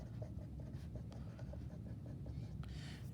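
A pen scratches out handwritten math notes on quadratic equations, faint, soft strokes repeating quietly at close range.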